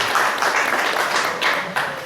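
Steady applause from a seated audience at an intercultural bilingual education workshop in Puerto Bermúdez, a dense even wash of many hands clapping that holds throughout.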